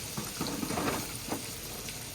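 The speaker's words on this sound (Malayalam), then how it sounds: "നല്ല പൊരിയുന്ന കോഴി." Steady hiss of chicken frying in hot oil, with crackles and pops breaking through a dense sizzling bed throughout.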